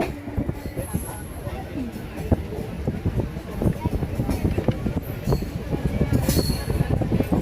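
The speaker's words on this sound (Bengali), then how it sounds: "এখন আমরা কটক স্টেশন ঢুকছি।" A local train running from Howrah to Puri rolls into Cuttack station, with loud, continuous wheel rumble and rhythmic rail clatter, and intermittent wheel squeals high above it, while muffled voices mix in.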